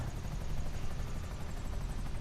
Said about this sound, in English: this is the only helicopter I know where you can do like a barrel roll thing